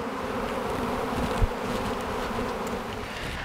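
A honeybee swarm drones steadily and loudly close by, a dense continuous buzz with no break, and nobody speaks.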